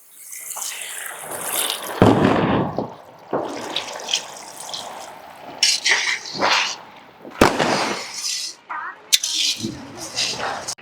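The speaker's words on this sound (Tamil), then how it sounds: "தேவையான அளவு தண்ணி ஊத்திக்கிடுவோம்." Water is poured into a pan of chicken varuval, splashing and sizzling in irregular bursts with scraping and stirring clatter between them, fairly close and loud.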